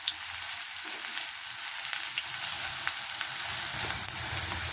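Mustard seeds, cumin, onion and garlic fry in a pan with a steady, close crackling sizzle and scattered tiny pops, and no voices.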